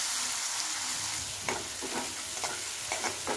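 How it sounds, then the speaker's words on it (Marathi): Crushed green chillies sizzle in a pan on low gas alongside garlic, a steady frying hiss with occasional stirring scrapes and crackles. "गॅस कमी करून मिरची भाजून घ्यायची."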